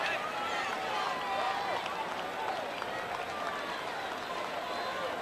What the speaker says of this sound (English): There are about 9 people clapping.